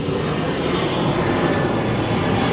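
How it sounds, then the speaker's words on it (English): An airplane takes off at a Lanzarote airfield, giving a steady, loud, broadband engine roar that holds evenly throughout, with no talk over it. "There's a plane, look, taking off."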